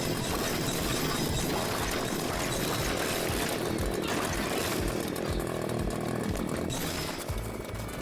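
A video-game chainsaw buzzes in a loud, continuous rasp that holds steady for the full stretch and eases slightly near the end.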